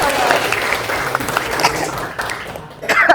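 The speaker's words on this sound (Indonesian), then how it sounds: "Tepuk tangan dulu dong buat semua." A classroom audience claps together in sustained applause for a few seconds, dense and fairly loud throughout, with faint voices mixed underneath.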